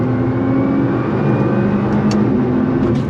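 A Nissan R35 GT-R sports car accelerates under throttle, its engine heard from inside as a steady, rising drone with tonal whine, loud and continuous and with no talk over it.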